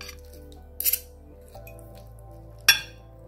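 Scissors snip open a packaged microwave ready meal of Korean ginseng chicken stew in a kitchen: a brief metallic cut near the start and a sharper clipped snip later, close and fairly quiet over a low steady hum.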